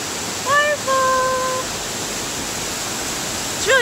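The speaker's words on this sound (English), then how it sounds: "Waterfall!" Raven Cliff Falls in the North Georgia mountains pours steadily, a loud broadband rush filling the scene, with a brief spoken exclamation over the roar near the start and another voice at the end.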